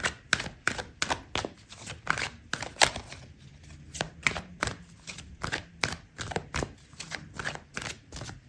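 Tarot cards being shuffled by hand ahead of drawing a card for a love reading, a rapid run of crisp riffling clicks and flutters repeating steadily throughout, close and fairly loud, with no talking.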